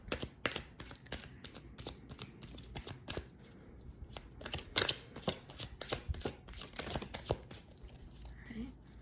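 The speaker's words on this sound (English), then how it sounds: "Let me go ahead and shuffle." Tarot cards shuffled by hand in a run of crisp, rapid riffles and flicks, fairly close and steady, with a faint murmur of voice now and then underneath.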